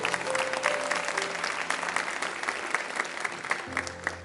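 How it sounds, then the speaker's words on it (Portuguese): Church congregation applauding during a morning service, steady crowd clapping over sustained musical tones, with a low note swelling in near the end. "Você devia estar aplaudindo o Senhor nessa manhã."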